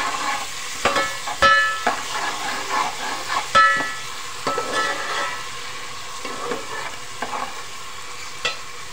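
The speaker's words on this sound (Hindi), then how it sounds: "लहसुन अदरक डाल के आप इसको फ्राई करें।" Garlic-ginger paste frying in hot oil for a masoor pulao, a steady close sizzle with sharp spatters and scraping clicks of a spoon stirring through the pan, no voices.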